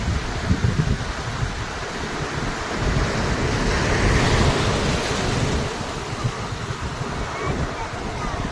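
Sea waves roll and wash continuously onto a beach about 20 to 25 km from Harihareshwar, a broad surf roar mixed with buffeting wind on the microphone.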